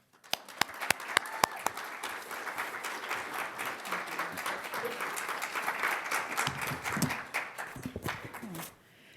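Audience applause welcoming poet Hadara Bar Nadav at a reading and conversation event: steady, sustained clapping from a crowd for about eight seconds, with a few sharper claps at the start, then tapering off abruptly.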